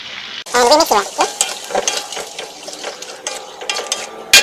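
Sambal paste with onion and ginger sautés in hot oil, sizzling loudly as a spoon or spatula scrapes and stirs the pan in short, uneven strokes, with a brief metallic clink near the end.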